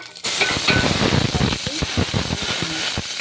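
Cumin, black pepper, garlic and a green chilli sizzle and crackle in hot oil with mustard seeds, a steady close frying hiss broken by sharp pops, for a Tamil rasam tempering.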